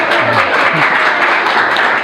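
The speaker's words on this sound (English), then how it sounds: "round of applause" Crowd applause from an audience at a tech diversity panel, sustained dense clapping close by that holds steady for about two seconds.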